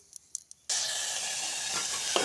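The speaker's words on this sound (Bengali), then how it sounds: "আমি একটু সর্ষের তেল দিয়ে এই যে দেখো ফোড়ন দিয়ে দিলাম" Spices crackle into hot mustard oil after a few light clinks, a sudden loud steady sizzle that holds for about two seconds, close by with no voices.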